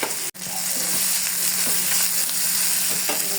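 Ginger paste and garlic paste frying with onions in hot oil, a loud, dense, steady sizzle with occasional soft stirring scrapes, close up and without talk.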